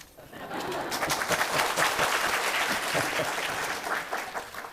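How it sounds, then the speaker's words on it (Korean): A crowd claps steadily for several seconds, a dense patter of many hands, fairly close and sustained without voices over it. "박수 안 치세요?"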